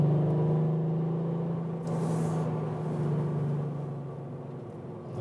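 A Volkswagen up! GTI (2018) engine drones steadily at close range from inside the car while driving, a low continuous hum with a slight rise and dip, no talk over it.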